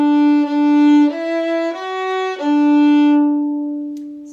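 A bowed string instrument sustains a rich, harmonic-laden tone through a short ascending phrase, swelling from soft to loud as a crescendo, then holding and fading out at the end.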